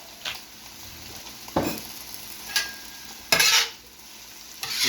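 Beef, onions and peppers sizzle on a Steelmade USA flat top griddle while a spatula scrapes and turns them in several sharp, separate strokes over a steady frying hiss, close by.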